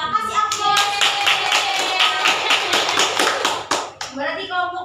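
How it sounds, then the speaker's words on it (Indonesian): Classroom applause for a winning group of students, a dense burst of many hands clapping for several seconds, loud and close, with children's voices and chatter mixed in. "Kasih aplaus"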